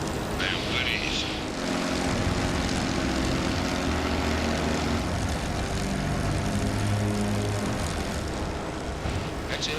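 Engines of an Aeroscraft airship drone loudly and continuously with a throbbing propeller hum, close and steady, with faint voices underneath.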